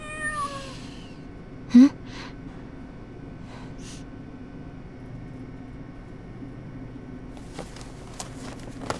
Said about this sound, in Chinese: 你这小猫也太可爱了吧